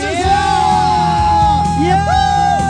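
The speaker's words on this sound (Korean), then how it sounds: "박수 주세요." An audience at the opening ceremony of a comedy festival in Asan whoops, yells and cheers loudly for nearly three seconds, several voices rising and overlapping close by.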